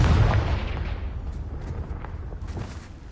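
A Confringo blast spell fires in Hogwarts Legacy, a loud booming burst up front that rumbles and slowly fades into a long, dull tail with faint crackles, no voices over it.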